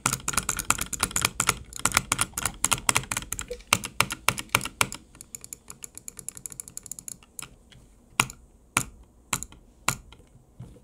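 Sound test of the buttons on a Glorious Model O gaming mouse: a rapid, dense run of sharp clicks that thins out into scattered, separate clicks near the end, close and crisp with no talking.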